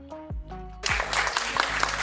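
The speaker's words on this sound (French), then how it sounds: "on peut tous s'applaudir pour cette participation" After a short voiced sound, players finishing a round of an online Geoguessr multiplayer match burst into brisk clapping that fills the rest of the moment.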